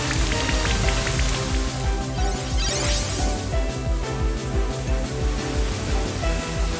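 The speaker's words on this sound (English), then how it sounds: "Oh, Rain Dance again." Rain Dance in Pokemon Brilliant Diamond brings a dense, steady hiss of falling rain. It plays continuously under looping game music.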